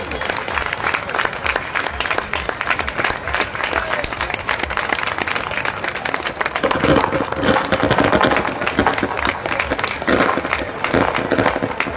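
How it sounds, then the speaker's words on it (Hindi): Enthusiastic audience applause at the inauguration ceremony of an Ashoka pillar in Mauryagarh Ahivas, dense steady clapping from a large crowd that swells slightly midway and continues without pause. "आप लोग जोरदार तालियों से सर का अभिवादन करें"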